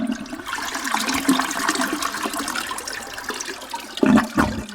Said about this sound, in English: Can we have a flush sound?